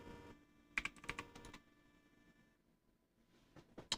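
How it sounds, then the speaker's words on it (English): Computer keyboard keys are tapped in short quick bursts, close and fairly faint, with gaps between clusters of clicks. "I'm typing too slow."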